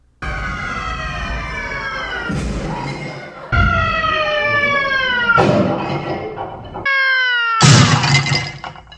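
Repeated shrill screams alternate with crashing, shattering bursts, several rounds in quick succession, loud and close, a sound effect in a Haunted Mansion ride stretching room.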